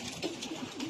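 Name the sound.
pigeons cooing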